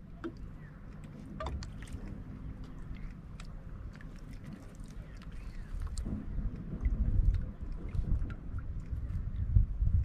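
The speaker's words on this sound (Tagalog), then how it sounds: "Yan na, umaandar na yung bangka natin." A handline fishing boat in the Philippines gets under way, a low rumbling engine drone with water churning beneath it that builds and grows rougher toward the end, alone without talk.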